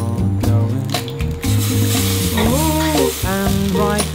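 An egg frying in a pan sizzles steadily up close, with utensil scrapes and squishy stirring, and faint tonal squeaks partway through.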